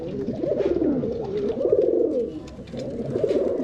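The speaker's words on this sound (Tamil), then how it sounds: "இது வந்து புறா இது வந்து கிரேபாஸ் கிரேபாஸ் இது வந்து தவடால் தவடால்" Pigeons, including grey and Indian fantail (thavadal) breeds, coo continuously in low, throaty rolling phrases, close and fairly loud, with several birds overlapping and brief pauses between bursts.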